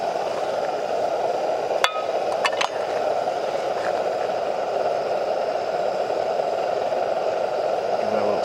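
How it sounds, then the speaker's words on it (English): A utensil stirs soup in a non-stick Trangia 27 pot over an Optimus Nova burner, giving a few light clinks and scrapes near the start over a steady, loud burner roar. "Give that a little stir."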